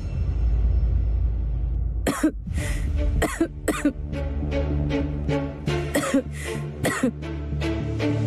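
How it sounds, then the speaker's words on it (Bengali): A woman coughs repeatedly in a series of sharp, close bursts with short pauses between them, loud and clear over a steady background hum. "আমার কাশি হচ্ছে, আমি খাবো না।"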